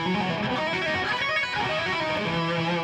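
A fast, continuous run of bright, distorted guitar notes cascading without pause, dense and loud throughout.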